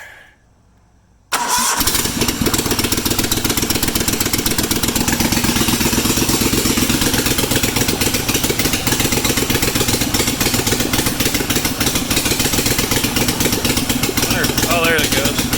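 A Bolens QT16 garden tractor engine cranks and catches after a short quiet moment, then settles into a loud, steady close-up idle with a rapid even chug, and a voice speaks over it.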